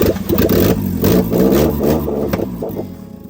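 A Nissan Skyline R33 engine idles nearby after a rebuild, a steady loud rumble that wavers slightly and then eases off, with no one talking.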